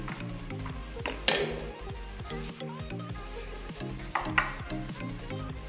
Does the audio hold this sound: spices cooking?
yes